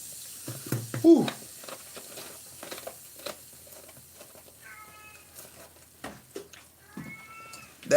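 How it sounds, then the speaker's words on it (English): A pet cat meows a few times at moderate distance, short rising calls between stretches of a person talking nearby. "That is my cat."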